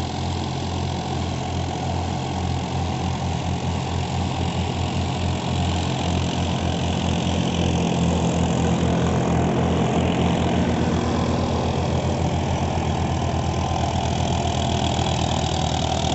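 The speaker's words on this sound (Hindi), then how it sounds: "स्मोक फ्री इंजन चल रहा है ट्रैक्टर का" A Farmtrac 60 Supermaxx 55 hp tractor, a 2021 model, runs its smoke-free diesel engine at a steady idle, close and loud, with a low even throb throughout and no talk.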